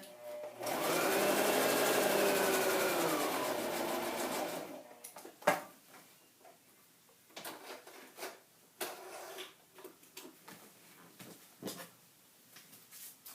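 A sewing machine runs a smooth, fairly loud burst for about four seconds while sewing a pocket, then stops and gives way to quiet handling clicks, taps and fabric rustles.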